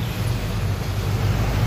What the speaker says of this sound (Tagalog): Ang bilis ng mga motor, ano?